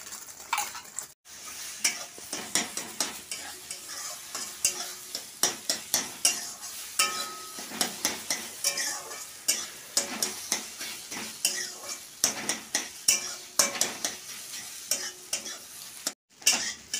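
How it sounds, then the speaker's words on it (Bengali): Egg frying in a pan for chowmein, with a steady sizzle and a brisk rhythm of spatula scrapes and taps against the pan, close and clear with no talking. "এবার আমি ডিমটা ভেজে নেব।"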